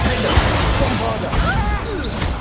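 Bombarda blasting spell smashes into a target in Hogwarts Legacy combat, a loud crashing impact with whooshing debris over busy game sounds and a voice calling out.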